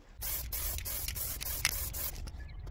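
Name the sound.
spray paint can spraying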